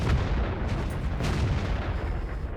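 An artillery shot firing in the video game World of Tanks: a heavy, booming blast with a low rumble that lasts the whole short moment, loud and close, with no talking.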